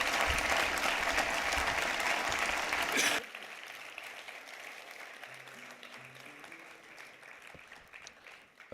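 Concert audience applauding loudly at a live music show, a dense sustained clapping that cuts off abruptly after about three seconds, leaving quieter room sound with faint murmuring and scattered small noises.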